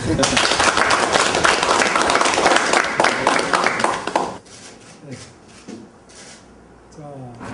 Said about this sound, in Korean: 여기 고생 많이 하시는데 박수 한번 크게 보내요